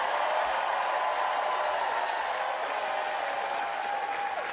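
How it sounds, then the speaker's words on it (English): A large crowd applauds at a political campaign rally in North Carolina, a continuous dense roar of clapping that holds steady for the whole stretch. "let's give another big round of applause to the next governor of North Carolina"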